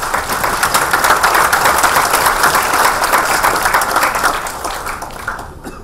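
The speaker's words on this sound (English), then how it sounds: "I think you deserve a slightly larger applause there" An audience applauds after a talk on India's policy and market outlook for 2020, a loud, dense wash of clapping that holds steady and then thins out near the end.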